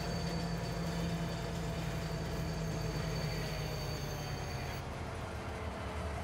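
A train rolls steadily through Farming Simulator 22, a continuous loud rumble with a low hum and a faint high whine, with no talk.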